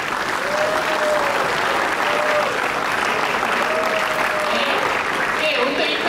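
Students clap together in a loud, sustained round of applause at an indoor industrial talk program. It holds steady for about six seconds, with a voice faintly audible beneath the clapping.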